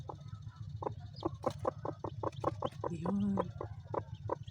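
A broody mother hen sits over her eggs, giving a steady run of low, regular clucks close up, with a brief higher call partway through and a short spoken word from a person.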